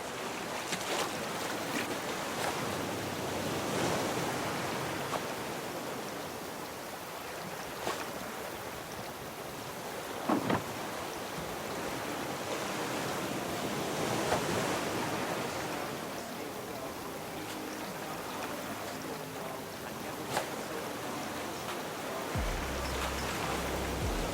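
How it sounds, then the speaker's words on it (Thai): Stormy sea in the Raft survival game: a steady broadband roar of wind, waves and rain runs throughout at moderate level, with a few brief sharp knocks along the way. "พายุเข้าอ่ะ"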